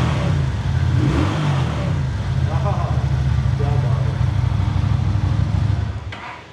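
A 250cc V-twin EFI chopper motorcycle engine rumbles and revs loudly and close by for several seconds, its throaty pulse rising and falling steadily before cutting out near the end.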